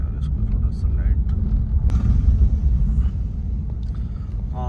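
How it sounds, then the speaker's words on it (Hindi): Engine rumble builds from a motorbike approaching on a jungle track at night in Pilibhit Tiger Reserve, a steady low drone growing slightly louder while someone talks over it. "बाइक आ रहा है यार"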